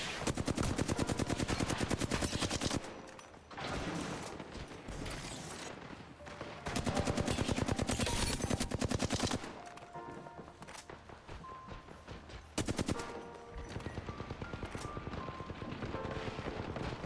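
Rapid automatic gunfire from a gun in Apex Legends, long sustained bursts of fast shots with short pauses between them, loud and close, broken up by a few quieter gaps.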